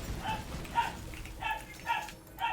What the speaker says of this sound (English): Apologies if you can hear Lola in the background barking away.